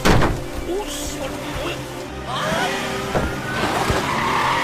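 Tires squeal and skid during a film car chase, with sharp screeches and crunching impacts breaking through a busy mix of engine noise and background sound.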